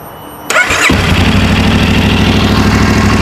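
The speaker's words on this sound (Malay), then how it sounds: "Ok, so ini bunyi idling dia." A Moto Morini Alltrek 450 adventure touring motorcycle engine cranks and fires up, then settles into a steady, loud close-up idle with an even rumbling pulse, no voices.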